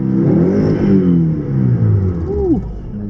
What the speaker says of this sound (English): Ooh, I'm gonna rev it quite a bit.